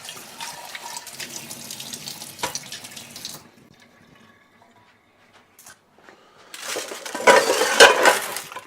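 Tap water runs into a kitchen sink during dishwashing, loud at the start, a near-quiet gap in the middle, then a strong close burst of splashing with faint clinks of dishes.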